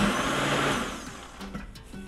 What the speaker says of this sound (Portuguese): vai estar colocando aqui no liquidificador. Vai bater para ficar um caldo bem cremoso